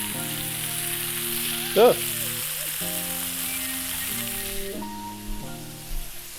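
Pork searing in a hot pan gives a loud, steady sizzle and crackle throughout, with a brief word spoken and a bright, tonal hum running underneath.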